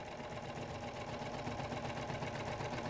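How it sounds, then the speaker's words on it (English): A serger sewing machine runs steadily as its blade trims the folded fabric edge while stitching a hem, a continuous close mechanical whir and rapid chatter with no talking. "Place the fold under the foot so the blade cuts off the extra 1/4 inch lip and serge."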